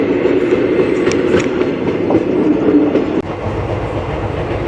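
A passenger train on the Palakollu to Chennai route runs on its rails near Vetapalem, giving a loud, close, continuous rumble with faint clickety-clack from the wheels.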